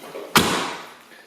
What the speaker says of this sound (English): doors closed nicely